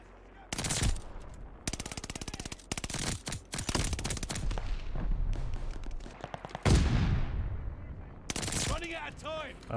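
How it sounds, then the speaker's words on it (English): Mounted LMG fire in the video game Call of Duty: Vanguard, several long rapid bursts of loud automatic gunfire with short pauses between them, close and sharp, alongside other game sounds. "Obviously it is an LMG, so getting mounted is just going to reduce the recoil"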